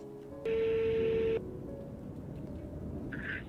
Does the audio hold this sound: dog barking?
no